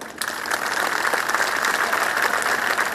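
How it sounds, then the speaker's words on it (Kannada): A graduation day audience breaks into sustained applause, a dense, steady wash of many hands clapping that swells in quickly and holds evenly at a moderate distance. "ಅಟ್ಲೀಸ್ಟ್ ನಿಮ್ಮ ತಂದೆ ತಾಯಿಗಾದರೂ ಚಪ್ಪಾಳೆ ಹೊಡಿದ್ರಪ್ಪ"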